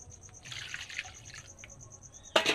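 Water used to rinse the spices and a grinding stone is poured into a pot of cooked masala, with a soft splashing rush followed by a sharp, loud burst at the end.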